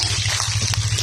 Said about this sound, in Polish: Jest tu woda.